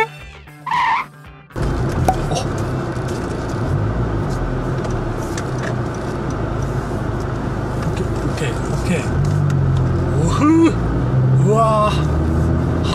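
A Honda Civic Type R FK2 on a test drive: a door thuds shut, then a steady engine and road drone fills the cabin, with brief rising whines near the end.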